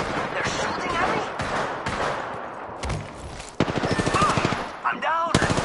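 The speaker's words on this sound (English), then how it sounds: "They're shooting at me?" Rapid automatic gunfire in a video game, loud bursts of fast repeated shots with brief gaps, close and dense, with a voice talking over part of it.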